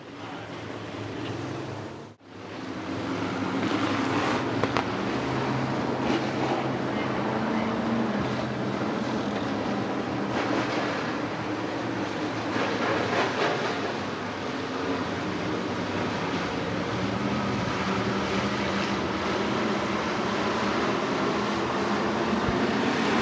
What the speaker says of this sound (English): RPMs come up, and we're back to green with the A main